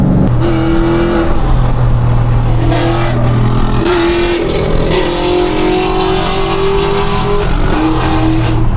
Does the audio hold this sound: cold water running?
no